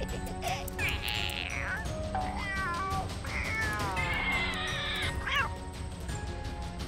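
A cat meows several times in a cartoon setting, with rising and falling calls spaced across the clip over a steady background bed.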